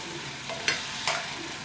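Blended tomato gravy for an egg curry is poured into a hot pan and stirred, giving a soft sizzle with a couple of brief scraping splashes, close and quiet, with no talking.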